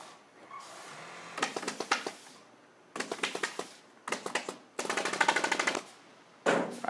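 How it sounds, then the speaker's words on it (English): A staple gun fires in rapid bursts of sharp clacks, fastening fabric to a mattress foundation, with short pauses between each run of shots, close and loud. "And then he's going to staple all this down to the foundation."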